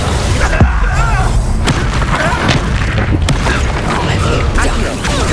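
Hogwarts Legacy duel in which the Confringo blasting spell goes off in booming bursts amid a loud, dense clash of magical effects and mechanical creaks, with no quiet gaps.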